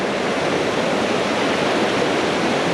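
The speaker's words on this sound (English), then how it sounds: "This is the third gorgeous waterfall on this hike on the Chimney Tops." A waterfall on the Chimney Tops hike in the Great Smoky Mountains roars close and loud as a steady, unbroken rush of white water, with no voices over it.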